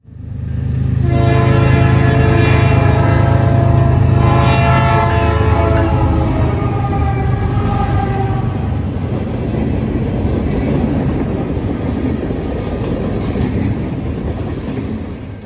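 A Canadian National GE freight locomotive leading train 179 west through London sounds a loud, close horn blast, then its rumble and the rolling clatter of passing freight cars carry on steadily.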